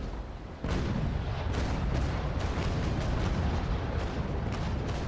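Naval Action ship's cannon broadside, a sudden loud burst of heavy gunfire that erupts after a brief quiet and rolls on as a dense, sustained barrage of booming shots.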